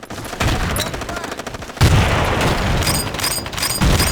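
In the Battlefield 2 video game, a frag grenade detonates amid sustained gunfire. Dense, loud bursts of automatic shots roll continuously, and a heavy blast lands midway through the firefight.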